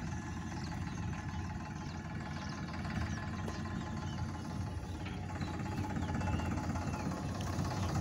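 A Farmtrac Champion 41 hp tractor engine runs at a steady idle, a low, even knocking drone that holds fairly quiet and unbroken throughout, with no voices over it.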